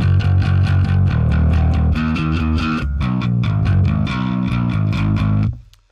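Electric bass runs through a Line 6 Helix Native amp model with the gain pushed, producing a loud, growling overdriven tone as a rhythmic run of repeated picked notes shifts pitch a few times before cutting off abruptly.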